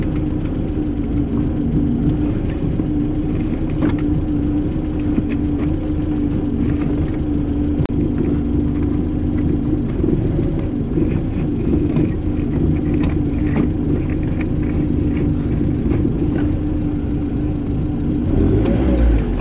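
A BMW E36 car engine rumbles steadily up close while the driver hunts for reverse gear, with a low constant drone, small rev swells and occasional clicks and rattles from the gearshift.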